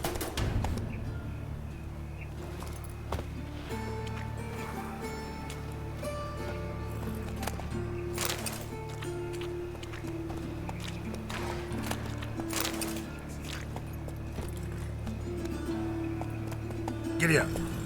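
Horse hooves clip-clop steadily under a rider in The Witcher 3, a regular trotting beat running the whole way beneath game music and distant voices.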